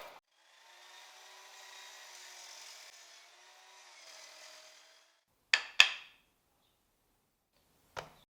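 A saw cuts through clamped pieces of wood with a soft, continuous rasp for about five seconds, then several sharp knocks ring out close by before a final tap.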